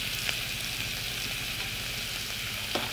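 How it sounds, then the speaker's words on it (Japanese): Pork and kimchi fry in a pan, a continuous close sizzle with faint stirring taps and no talking. "今夜は豚キムチ。"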